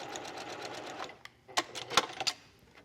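A sewing machine stitches a seam finish on a little black dress in quick bursts of rapid clicking, a short run at first, then a pause and several sharp rattling stitches, close and quiet.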